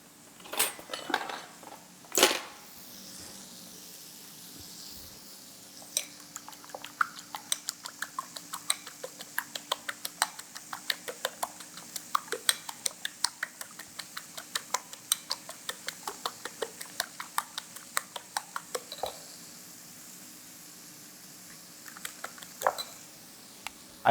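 Cooked sausage being chopped up in a pan with a utensil for a breakfast burrito, a long run of quick, fairly even tapping clicks close by, with a few louder knocks at the start and near the end.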